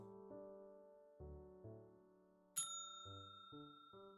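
In the detective video game Nine Noir Lives, a bell chimes with clear, sustained tones: several soft rings shift in pitch, then one bright, sharper strike rings out and fades slowly, with no talking.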